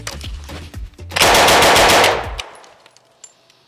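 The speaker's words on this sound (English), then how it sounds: "First up, we got the grease gun." An M3 grease gun submachine gun fires one loud sustained burst of about a second, its rapid shots running together before trailing off into echo, with no voices.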